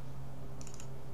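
A few quick key clicks from a computer keyboard as a server address is typed into a remote-desktop client, brief and soft over a steady low hum.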